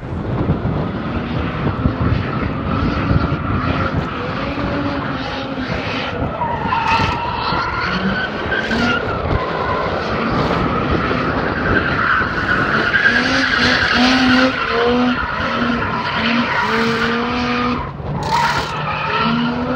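A Mazda RX8 drifting at a practice session, its tires skidding and squealing almost continuously over a loud, revving engine for about twenty seconds, with no talk.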